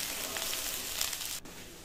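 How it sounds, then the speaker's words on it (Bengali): Potato pieces sizzle in hot oil in a pan, a faint, steady hiss that drops slightly near the end. "আমি তেল গরম করে এই আলুগুলো ছেড়ে দিয়েছি।"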